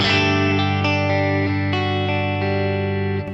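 Telecaster electric guitar on its bridge pickup, with a neck darker than typical Tele necks, strumming sustained chords that ring out with a bright, slightly effected tone, several chord changes in a row, no talking.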